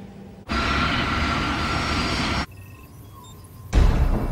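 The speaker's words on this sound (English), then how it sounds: "As the aircraft approach the runway" Crossair airliner on approach to the Zurich Airport runway at night, a steady broadband engine roar that holds for about two seconds, drops off to a quieter hum with faint tones, then surges loudly again near the end.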